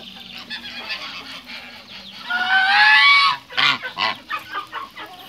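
A goose honks loudly and close by in a rapid series of harsh, nasal calls that rise into a sustained squawk before breaking into shorter honks, with other fowl nearby.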